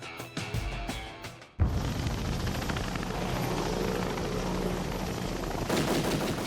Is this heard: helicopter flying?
yes